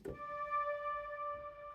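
A sharp attack, then a sustained Roland Gaia SH-01 synthesizer tone with bright stacked harmonics holding steady, alone and fairly loud.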